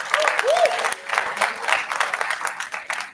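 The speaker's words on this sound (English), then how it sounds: "Round of applause for them as well." Applause for secretariat members at a Model United Nations conference valedictory, dense continuous hand clapping from a crowd filling the room, with a voice briefly heard over it at the start.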